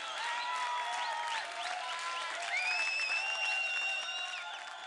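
A studio audience on an Indian TV singing competition gives sustained, steady applause to welcome the judges, with bright tonal music playing over the clapping throughout.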